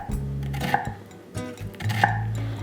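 Knife chopping a finely diced onion on a cutting board, for Mexican garnishes such as pico de gallo, with a couple of sharp clacks of the blade against the board among softer cutting and scraping, close up, no talk.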